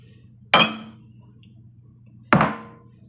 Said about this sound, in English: So I'm gonna mix up my salad now.